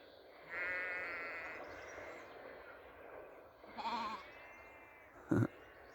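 A ewe and her lamb bleat in a field. A clear call from the ewe is followed by a higher, wavering lamb bleat, with a sharp brief knock near the end and light outdoor ambience throughout.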